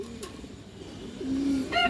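Pigeons coo close by, a soft low warbling call rising toward the end over faint background noise.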